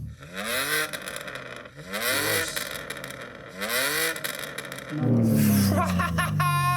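A BMW M3 fitted with an upgraded aftermarket exhaust revs hard in three rising bursts with short pauses between, then settles into a loud, sustained idle burble at close range. No one speaks.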